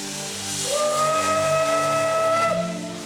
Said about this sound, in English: steam trains still puff and chuff their way to Port Erin